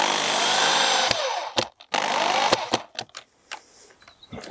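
A power screwdriver drives screws into azobé hardwood planks for a garden bed extension, loud whining bursts of driving broken by sharp clicks and pauses, with a second shorter run near the end.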